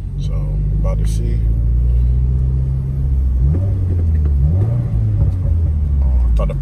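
A Subaru WRX with an off-the-shelf tune rumbles loudly from close by, its engine droning steadily and then sweeping up and down through a couple of revs, with a voice talking over it.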